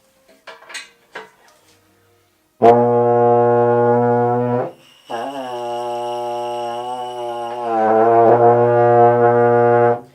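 A brass instrument sounds sustained, buzzy tones, one long note, a brief pause, then more held notes shifting in pitch, loud and close.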